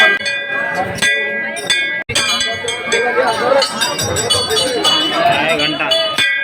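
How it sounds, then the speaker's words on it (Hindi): Temple bell ringing at a crowded goddess shrine in Dongargarh at night, bright repeated clangs and metallic clinks over steady crowd chatter and background music. "घंटा"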